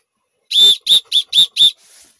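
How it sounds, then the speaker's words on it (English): A small emergency whistle is blown in five short, piercing blasts in quick succession, followed by a faint breathy trailing puff, all loud and close with no talk over them. "this is an emergency whistle. Listen."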